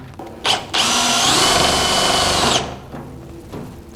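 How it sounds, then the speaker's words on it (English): A power drill drives a self-tapping screw into the lower rail of a metal tool base stand, a loud close whine lasting about two seconds after a brief initial blip. "we'll secure that with 3 self-tapping screws."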